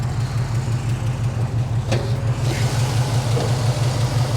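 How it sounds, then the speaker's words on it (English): An LS engine in a 1964 Pontiac GTO idles smoothly and steadily with a low, even rumble and a brief faint click partway through. "LS runs quiet, runs smooth."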